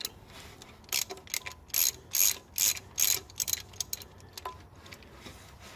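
A ratchet wrench working a bolt loose while an engine is taken apart to reach the timing chain, a series of quick close clicking bursts in an uneven rhythm, then a few fainter clicks, with no talking.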